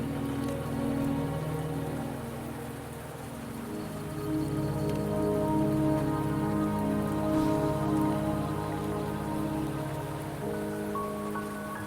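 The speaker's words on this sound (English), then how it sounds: "Don't worry, the rain won't last much longer." Steady rain falls in a video game on the approach to Mount Firmament, a constant close hiss of drops that never lets up, layered over a low sustained musical drone.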